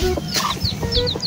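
Young chicks peep in short, high chirps mixed with low clucks from a hen, several quick calls in close succession, near and clear.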